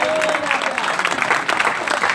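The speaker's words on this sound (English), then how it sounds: "Oh, clap unto the Lord" Congregation clapping at a Sunday women's week church service, a steady dense patter of many hands with a faint voice briefly over it.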